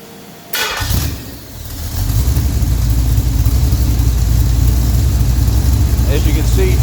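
A bone-stock 1967 Pontiac GTO 400 V8 with a factory Quadrajet carburetor and intake, heard close up as a brief burst that dips before settling into a loud, steady rumbling run.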